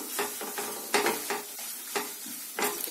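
Egg masala with ground pepper frying in a pan as a spoon stirs it in several bursts over a steady close sizzle, with no talking.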